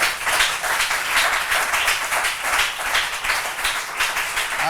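A church congregation applauds in a continuous, dense wave of clapping that pulses rhythmically and stays loud and full throughout, with a faint voice underneath.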